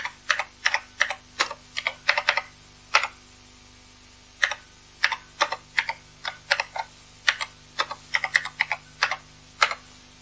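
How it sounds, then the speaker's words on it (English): Keystrokes on an Acorn Electron home computer keyboard from 1983 as lines of BASIC are typed in: clear, close clicking taps in quick irregular bursts with short pauses between, no voices. "And we can continue to type in lines of BASIC."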